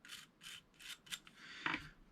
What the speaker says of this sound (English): I'm going to brush these gears out here